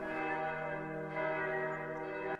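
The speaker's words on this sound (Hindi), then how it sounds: "चर्च की घंटियां बजने लगीं" Church bells ringing steadily in a horror tale, a sustained, dense metallic toll with rich overtones that swells slightly midway and cuts off sharply at the end.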